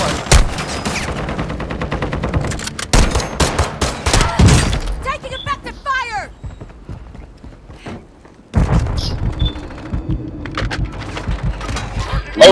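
Gunfire in the video game Warzone 2, dense bursts of rapid automatic shots and sharp cracks, loud and close, easing into a quieter gap before heavy firing resumes, with in-game voices calling out over it.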